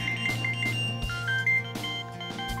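An electronic phone ring repeats in short chirping bursts over a steady low hum, clear and close.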